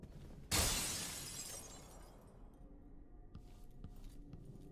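A glass shatters in the Dishonored 2 video game: one sudden bright crash with a tinkling decay over a couple of seconds, followed by a few faint clinks in a quiet room.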